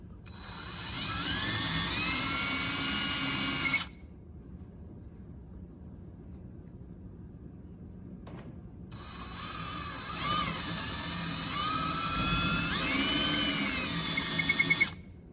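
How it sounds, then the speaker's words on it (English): A high-pitched power drill whines loudly, stops for several seconds, then whines again with shifting pitch as it bores into an acoustic guitar fretboard's wood toward a wooden dowel. "we'll drill down until the drill bit hits that wooden dowel"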